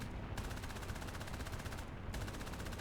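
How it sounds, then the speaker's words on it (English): Fighter plane machine guns firing in War Thunder, a loud, fast continuous rattle of rapid shots that pauses briefly near the end and resumes, up close with no talking. "Maybe fire some of the MGs."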